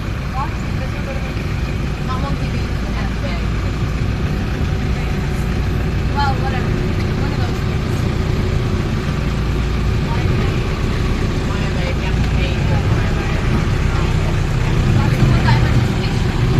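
A ship's engine near Phi Phi Island, Thailand, as the vessel heads toward the pier. It makes a steady, close low rumble that never lets up, with faint voices in the background.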